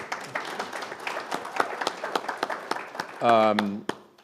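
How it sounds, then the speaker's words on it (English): Audience applause at a conference session, scattered claps mixed under a speaker's talking, then a brief louder tonal burst near the end. "it's okay to clap, go ahead"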